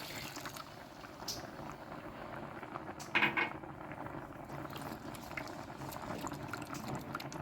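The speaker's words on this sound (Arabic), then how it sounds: "اول ما الدقيق كده يبدا ان هو يغلي او يطلع كده فقاعات" Thick flour roux and chicken broth bubble and simmer quietly in a pan, a soft steady gurgle with a brief clatter partway through.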